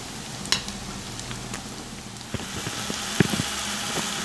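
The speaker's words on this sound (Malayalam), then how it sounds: "പൊടികളുടെ പച്ചമണം മാറി ഒന്ന് എണ്ണ തെളിയുന്നിടം വരെ നമുക്ക് വഴട്ടി കൊടുക്കാം." A masala paste of ground spices sizzles steadily in hot oil as it is sautéed for a homestyle chicken curry, with a constant crackling hiss and a few stirring knocks and clinks of the spoon.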